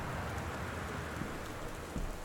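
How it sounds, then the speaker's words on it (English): Steady rain falling outside a house in Gone Home, a dense, even hiss of drops, continuous and moderately faint, with no voices. "It's raining outside."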